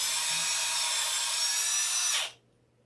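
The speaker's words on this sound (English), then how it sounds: "we're going to use a drill for this next part" An electric drill whirs loudly and steadily for about two seconds, then stops abruptly.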